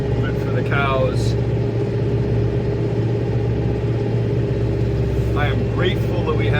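A farm tractor engine runs at a steady idle in winter weather, a constant low rumble close by, with brief higher noises breaking through now and then.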